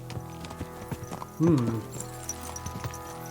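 Horses in Kingdom Come Deliverance 2 clip-clop in a quiet, irregular walking rhythm, with a brief horse whinny or snort rising midway through.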